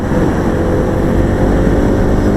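A Kawasaki KLX 300 motorcycle riding on a highway, its engine a loud, steady, close drone.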